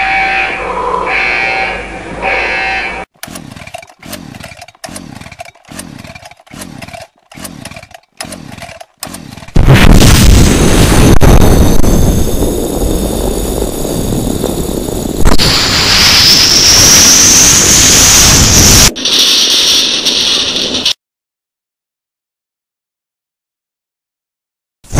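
Staccato electronic pulses give way to a loud, sustained roaring rumble with a rising hiss on top, a spacecraft engine igniting for launch, before cutting abruptly to silence.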